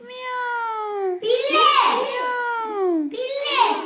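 A child imitates a cat, giving long, drawn-out meows one after another in a clear, close voice with no other noise around it.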